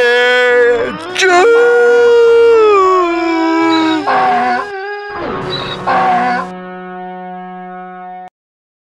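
Donkey braying in a Tamil animated film, a long, loud, wavering tonal call with rising and falling pitch, broken into several drawn-out phrases before cutting off abruptly into silence.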